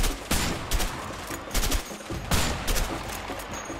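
Sniper rifle gunfire in the video game A Way Out, heard as a few sharp, loud shots spaced across a steady backdrop of game ambience, with no talking.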